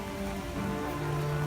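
Rain falls steadily on a cold, wet day at EPCOT, making a dense, even hiss with faint tonal hum underneath and no speech.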